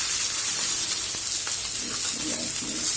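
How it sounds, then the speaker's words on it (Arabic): Mullet fish grills in a hot pan with a continuous close sizzle and crackle, a steady hiss with light pops throughout and no talking. "وبنشوي في السمك. وكده السمك اتشوى معانا."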